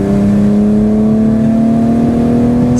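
A BMW E30 325i convertible's 2.5-litre straight-six roars steadily and loudly throughout, with a sustained droning, revving engine note close by and no talk.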